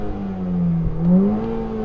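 VW Golf GTI engine revving at a drag race, a close steady drone that dips, then climbs into a rising whine with a brief blip between.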